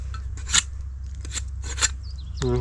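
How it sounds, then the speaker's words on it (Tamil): A palm frond is cut for roof thatching in a forest, brief rasping, scraping strokes up close in a few short bursts with quiet gaps between. "மட்டையை வெட்டிக்கலாம்."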